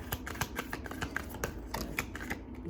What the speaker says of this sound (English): I shuffle the cards the same exact way.